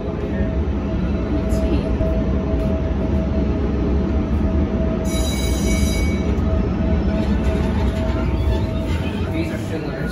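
A subway train rumbles at Pittsburgh's North Side T station, a loud, steady underground roar with a brief high squeal midway through and faint voices in the background.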